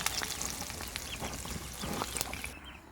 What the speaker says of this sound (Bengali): উপর থেকে একটু হালকা করে তেল তুলে দেব